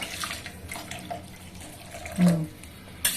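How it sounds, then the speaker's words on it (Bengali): Hot water pours into a pressure cooker holding dalia khichuri with winter vegetables, a steady close splashing trickle with a brief louder gush near the end, and no talking. "এবারে গরম জল দিয়ে দিচ্ছি আর একটু কারণ সিদ্ধ হবে তো সব"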